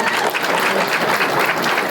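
Convention crowd at a TV show reunion panel applauding the guests, loud, dense and sustained clapping that fills the room without pause.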